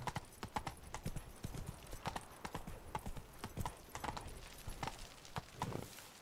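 Steady clip-clop of horse hooves at a walking pace in The Witcher 3: Blood and Wine, fairly close, with a faint whinny-like texture and no talking.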